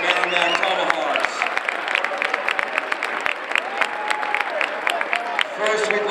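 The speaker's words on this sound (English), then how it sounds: "Round of applause for Nashua South and the Merrimack Tomahawks" Crowd applause in a gym after a girls' high school basketball game between Nashua South and Merrimack, with crisp individual claps over a sustained crowd roar and a voice speaking over the PA.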